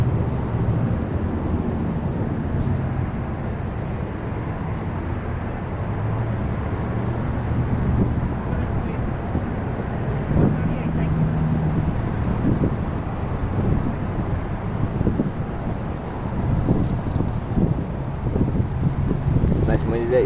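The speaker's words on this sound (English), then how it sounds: "It's nice and windy today." Gusty wind buffeting the microphone in a continuous low roar, with a steady engine hum underneath and occasional louder bursts.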